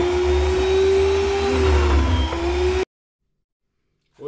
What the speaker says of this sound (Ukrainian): ми вже дорізаємо ковбасу і зараз продовжимо нарізати сир